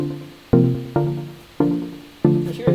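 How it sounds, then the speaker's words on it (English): A plucky synth melody built from supersaw sounds with a short attack, playing a few separate notes that each decay quickly, clear and moderately loud with nothing else over them. "Plucks, sometimes you want like a melody sound like this."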